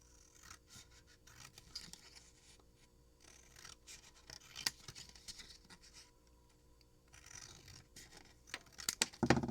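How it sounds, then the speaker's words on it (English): Scissors trim around a paper embellishment for an explosion box, producing soft, close snipping, scraping and rustling in irregular bursts, with a denser flurry of crisp cuts at the end. "Put it up to the top and then just trim around it."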